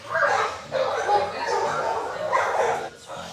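Dogs at the Kansas City Pet Project animal shelter give short yips, barks and whimpers in quick bursts, close by, with people talking alongside.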